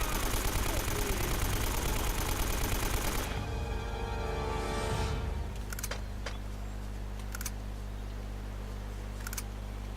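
Gunfire rattles through a firefight in the video game Uncharted, dense loud bursts for the first few seconds, then a quieter stretch broken by a few sharp isolated shots.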